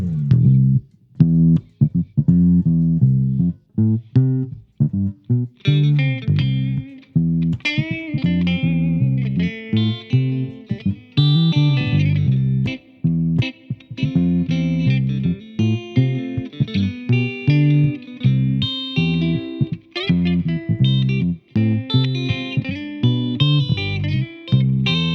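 Electric bass guitar run through effects pedals, demonstrating new tones in a Fender lesson: a steady, continuous riff with distorted, chorused and reverberant coloring, played loud and alone for about 25 seconds with no talking.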